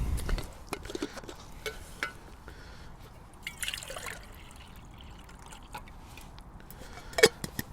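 Water trickling and dribbling into a camping cup for a ration-pack noodle stew, a soft intermittent pour with small splashes and drips, quiet and close, ending in a brief clink.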